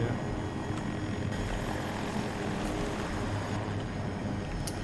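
An MD540 Nightbird helicopter in Battlefield 2042 gameplay gives a steady, close rotor and engine drone with rapid blade chop, continuous throughout with a few faint sharp clicks.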